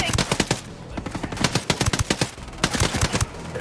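Rapid automatic gunfire in the video game Ghost Recon Breakpoint: loud, close bursts of sharp shots in quick succession, firing nearly continuously throughout.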